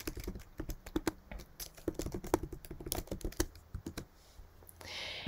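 Rapid, irregular typing on a computer keyboard, with clustered keystrokes and short pauses, close and fairly quiet, with no talking.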